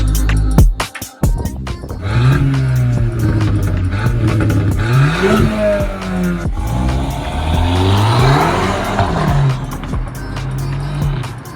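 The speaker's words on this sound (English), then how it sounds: "This is my Audi S3." A modified Audi S3 drives past with its engine rising and falling through several revs and gear changes, a close, loud throaty growl with brief tyre noise, and nobody talks.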